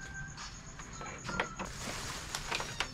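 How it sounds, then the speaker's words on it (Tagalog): Canon G2010 inkjet printer's print head sliding back to its home position, a faint whirring carriage movement with small clicks and ticks close by, no talking. "Para mapunta yung printer head dun sa home position."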